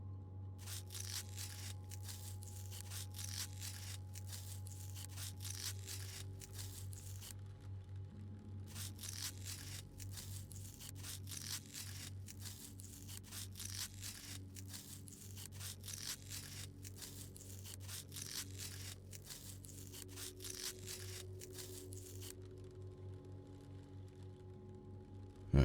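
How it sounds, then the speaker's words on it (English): Cutting open a body during an autopsy in the game Autopsy Simulator: a steady run of dense, rapid tearing and crunching texture lasting the whole stretch, briefly pausing once, over a constant low game hum. "We must cut him open."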